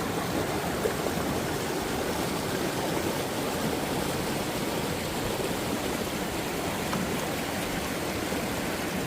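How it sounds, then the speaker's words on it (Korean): Mountain stream water rushing downhill in a scenic spot, a steady broadband hiss and splash that stays even and close throughout with no voices. "아, 물 시원하게 막 흘러내린다."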